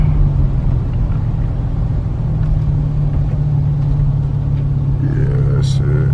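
A Dodge Challenger rolls up and eases to a stop, its engine a steady low rumble with a soft rev near the end, close and continuous throughout.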